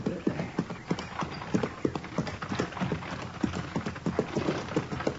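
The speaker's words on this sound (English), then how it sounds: "How do you like riding in a buggy, Matt?" Hooves clip-clop in a steady trotting rhythm as a horse pulls a buggy along, close by and fairly clear.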